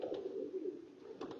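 Soft, low cooing of pigeons at a racing pigeon loft as the birds return, a steady murmuring coo close by with a couple of faint flutters or clicks near the end and no talking.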